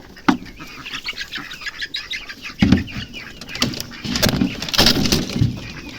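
Chickens flap and scuffle nearby, with bursts of wingbeats, brief squawks and clucks amid rustling and thumps.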